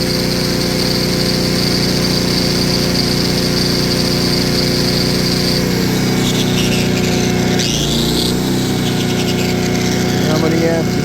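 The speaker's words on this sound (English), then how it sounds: "Generator's responding perfectly." A Honda GX-powered Kodiak SGA2800HX generator drones loudly and continuously under load, its pitch shifting slightly partway through as the load changes, with a voice speaking over the engine.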